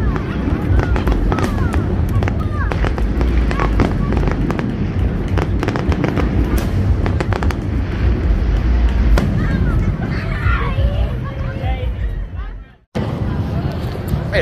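A Fourth of July fireworks finale barrage: a loud, dense, continuous rumble of booms, thuds and crackles with crowd noise mixed in, before it cuts off abruptly near the end.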